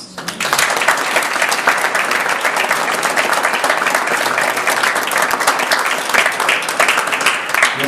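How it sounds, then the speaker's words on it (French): An audience at the inauguration of eComSouk at the ITC breaks into applause, with dense, loud clapping that rises quickly and holds steady to the end. "nos collègues méritent un grand applaudissement de la part de nous tous"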